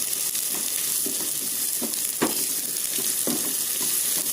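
Onions fry to golden brown in a pan for tomato rice, a steady loud sizzle broken by occasional scraping stirs, alone without talk.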